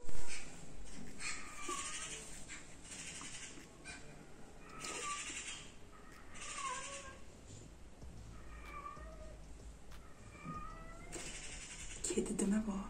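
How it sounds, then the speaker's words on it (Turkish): A cat meows repeatedly indoors, several drawn-out calls spaced across the stretch, with people talking quietly now and then. "Kedi değil mi bu? Evet."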